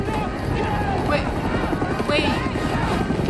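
Helicopter landing, a loud continuous rotor and engine roar dominating throughout, with voices faintly mixed underneath.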